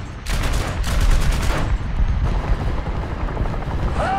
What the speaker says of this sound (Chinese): 然后特别有一台直升机在飞了